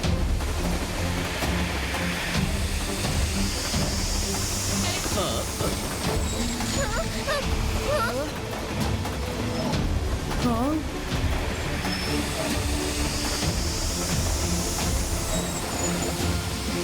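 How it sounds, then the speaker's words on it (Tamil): A moving train rumbles steadily throughout with rhythmic wheel clatter and occasional squealing, loud and close as if heard from inside, with voices talking over it. "அட, இந்த ட்ரெயின்"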